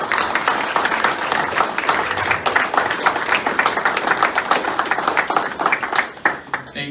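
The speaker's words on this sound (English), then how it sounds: "How about we get a round of applause for our candidates real quick?" An audience at a local mayoral candidate debate applauds loudly and continuously for the candidates, the dense clapping holding steady before trailing off at the end.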